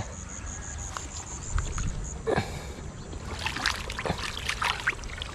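Irrigation water gushes strongly from a pipe into a planted field, a steady broadband rush that swells and grows louder partway through, with faint wind around it.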